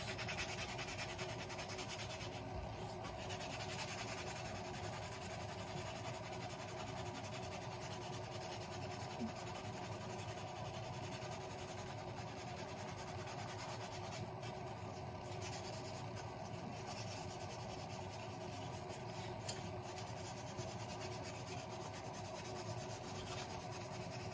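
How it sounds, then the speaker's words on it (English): Sandpaper rubbed up and down to smooth a chamfer on a Husqvarna 372xp chainsaw part, a steady, continuous scratchy rasping that carries on evenly throughout at close range with no talking. "I like to smooth that all out, that chamfer out a little bit more, up and down with sandpaper."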